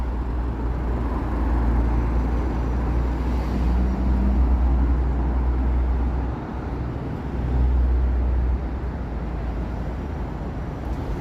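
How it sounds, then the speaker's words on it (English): Steady Toronto traffic rumbles past as cars come off the expressway near the downtown lakefront at sunset, a continuous low roadway drone with no speech. "Got cars coming off of the expressway."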